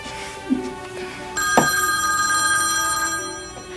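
A telephone rings in a quiet room: a short knock, then a sustained electronic ring with a steady tone that fades slightly toward the end.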